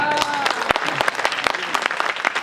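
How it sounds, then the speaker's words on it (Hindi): Audience at a Hindi poetry recital clapping in a brisk, uneven burst of distinct claps, with a voice faintly under them. "ताली बजा के बताओ"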